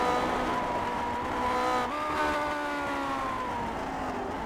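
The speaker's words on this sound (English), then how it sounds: "I'm just going to step away and you can listen to the engine" A race car engine at Laguna Seca roars steadily at high revs, the pitch dropping briefly then climbing again as it powers on, loud and continuous with no talking.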